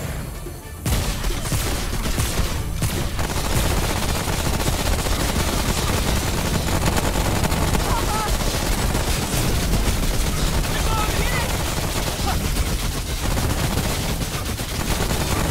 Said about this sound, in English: I'm gonna shoot him in the face then.